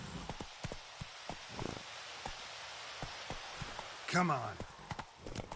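Hooves of the horse Roach clip-clop in a steady galloping rhythm in a video game, running close and continuous beneath a voice urging it on, with a brief louder burst near the end.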